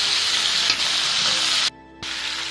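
Pork ribs stir-fry with potatoes and green beans in a Northeastern Chinese country kitchen, giving a loud, continuous sizzle and hiss that cuts out for a moment before resuming.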